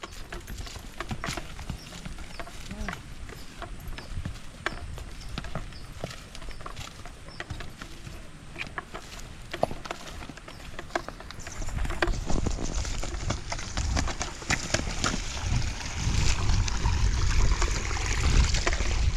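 Steady clip-clop of horse hooves on a trail, with trickling water in the background that grows louder toward the end.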